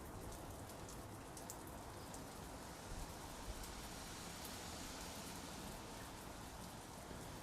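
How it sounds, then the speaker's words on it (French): Rain falling steadily on a rainy day, a soft, even patter of drops that continues unbroken throughout at low volume. "un jour de pluie comme aujourd'hui"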